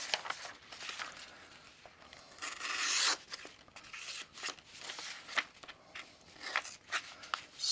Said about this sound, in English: it is sharpening the knife